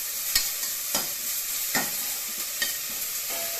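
Chopped tomato, slit green chili and curry leaves sauté briefly in a pan for a mutton rib bone soup, a steady close sizzle broken by a few sharp spatula scrapes and clanks.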